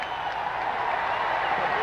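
A golf gallery at the 1980 U.S. Open final round at Baltusrol applauds in a steady, dense wash of clapping and crowd noise that fills the whole moment without a break.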